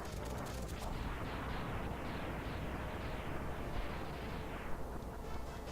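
Fire wave weapon from Mega Man X spews a continuous roaring, crackling rush of flame, dense and steady for several seconds at a moderate, unchanging level.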